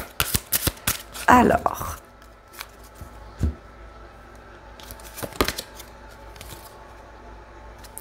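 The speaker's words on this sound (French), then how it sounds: "Je vais vous tirer quelques cartes" Oracle cards being shuffled and drawn, a quick burst of riffling near the start followed by sparse soft card flicks and taps, with a voice speaking briefly at the outset.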